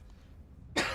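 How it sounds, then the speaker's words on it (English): A single short cough near the end, abrupt and close, after a stretch of quiet room tone. "I thought I was gonna cough."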